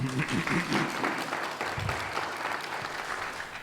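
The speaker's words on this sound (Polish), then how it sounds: "Wielkie brawa." Audience applause at an environmental award ceremony, a steady wash of many hands clapping close and loud for the whole stretch, with a voice briefly audible under the start.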